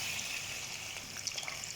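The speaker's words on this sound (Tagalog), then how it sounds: "Lagyan na rin natin ng tubig guys." Water pours steadily into a cooking pot for sinigang, a continuous close splashing trickle with small gurgles toward the end.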